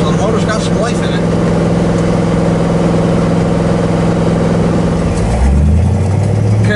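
A 1966 Chevrolet Chevelle engine runs steadily at a low idle rumble throughout, then revs up near the end, recorded close with people talking over it.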